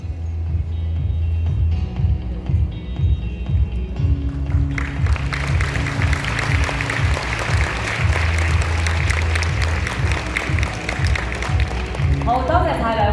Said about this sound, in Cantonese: 再一次俾熱烈掌聲